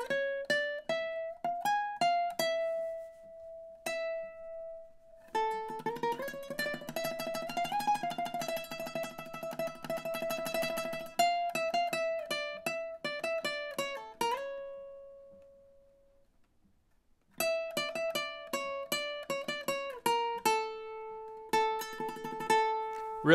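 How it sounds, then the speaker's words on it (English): Ukulele playing a tune fast with rapid tremolo picking, bursts of quickly repeated plucked notes that swell, fade into a short silence, then resume, close and clear with no talking. "I'm going to play it much faster so that you can get a better feel for it with the tremolo going on."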